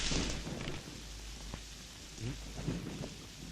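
Heavy rain pours steadily with a deep rumble of thunder, loudest at the start, then a dense hiss of falling water with scattered drips.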